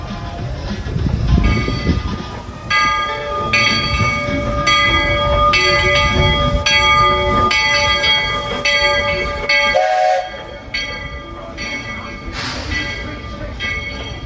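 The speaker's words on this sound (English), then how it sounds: "Disney World Railroad is now arriving at Fantasyland Station." Walt Disney World Railroad train pulling into Fantasyland Station at the Magic Kingdom, a steady rumble of rolling cars with sustained tonal whistle-like notes ringing over the noise and a brief sharp burst near the end.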